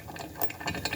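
Bolts are tightened with a ratcheting wrench while a Kubota BX series tractor step kit is fitted, giving a close, rapid run of small mechanical clicks with no voices.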